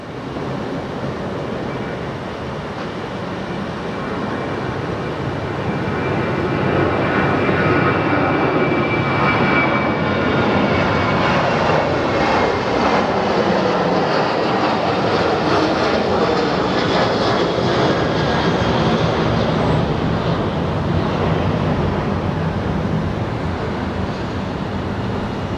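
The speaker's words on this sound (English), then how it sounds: "A JSX Top Gun livery is about to take off." A JSX jet in Top Gun livery takes off from Phoenix Sky Harbor International Airport, its broad engine roar swelling from moderate to loud and holding steady as the aircraft accelerates along the runway.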